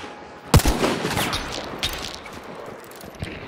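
Gunfire in Hunt: Showdown 1896, opening with a sharp, loud shot followed by a few scattered, fainter reports and lingering echo, with no talk over it.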